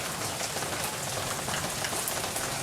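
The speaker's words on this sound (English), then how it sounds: "the rain's blowing in on the side of the porch" Steady, dense rain hitting a porch and yard during a storm, an even close-up hiss with no pauses and no voices.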